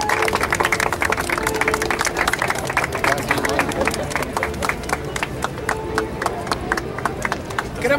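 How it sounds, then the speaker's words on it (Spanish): A crowd at a mural inauguration outside a hotel breaks into sustained rhythmic clapping, many hands beating fairly steadily together at a lively pace, loud and continuous throughout. "Aplauso fuerte para ellos"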